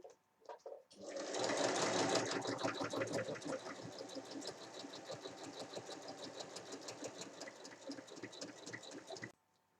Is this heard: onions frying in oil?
no